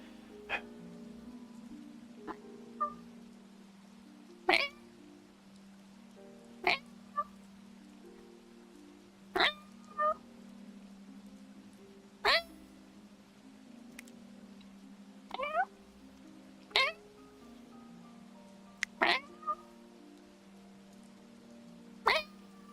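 A person imitating a cat, giving a long series of separate meows and mews spaced every second or two, close and fairly loud over a steady low background hum.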